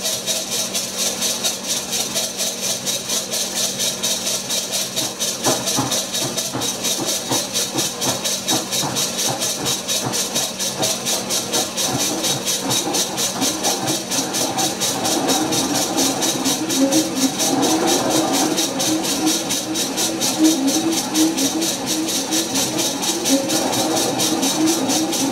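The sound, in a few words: powered lathe slotter making a cut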